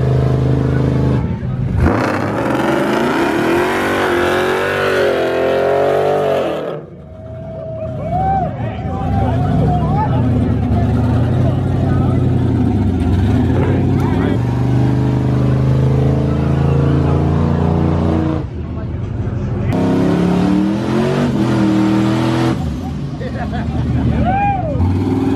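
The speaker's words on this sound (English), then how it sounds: "I'm ready to hear this burnout." Truck doing a burnout at a cash street race, its engine revving loudly and continuously across the clip amid a buzzing crowd, with people talking nearby.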